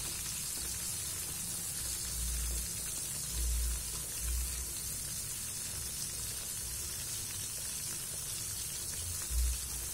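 Food sizzles in slightly dirty, reused hot frying oil, a constant hissing crackle held at an even level for the whole stretch with occasional low bumps, and no one speaks.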